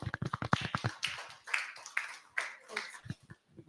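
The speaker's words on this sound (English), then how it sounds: "Please, a round of applause, sir." Scattered hand claps from a small audience at a farmers' awareness campaign, a quick burst at the start that thins into a few isolated claps, with voices talking underneath.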